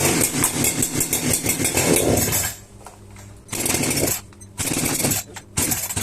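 A Hyundai H865 engine with a carburetor, restarted after stalling, runs in loud rapid chugging bursts that drop away twice to a low idle before surging again.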